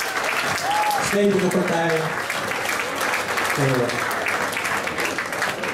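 Spectators applaud the players after a match at a memorial tournament, steady close clapping running throughout while someone speaks briefly over it.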